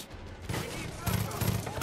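Video game gunfire from Far Cry 5, a few quick muffled shots in a short, quiet burst against steady game background, with talk at low level.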